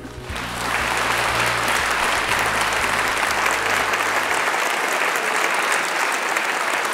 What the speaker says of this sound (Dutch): Laten we een daverend applaus geven voor onze gast van vanavond, Khadija Ariep.